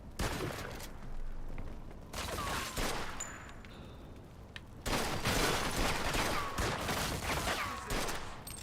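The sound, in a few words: gunfire in the video game Mafia II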